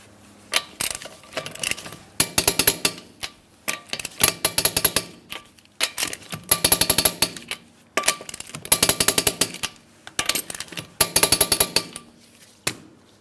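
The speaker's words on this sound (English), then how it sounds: "Let's go ahead and torque those lug nuts to that 100 foot-pounds as I mentioned." Lug nuts on a 2008-2016 Chrysler Town & Country wheel being torqued to 100 foot-pounds, heard as repeated bursts of rapid metallic ratcheting and clattering, loud and close, with short pauses between each nut.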